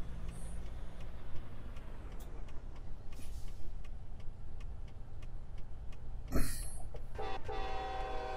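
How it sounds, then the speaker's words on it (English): An American Truck Simulator semi truck sits with a low engine rumble before a sudden short horn blast rings out near the end, loud and close. A brief tonal tail follows, and no one speaks. "accidentally shut my truck off by honking the horn"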